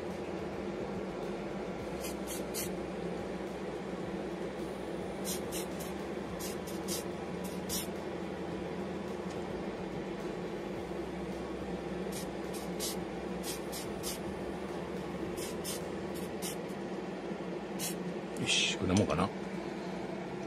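A large can of low-odour spray paint hisses in short repeated bursts while coating a McLaren MP4/8 Ford plastic model kit, with a steady fan drone running underneath throughout.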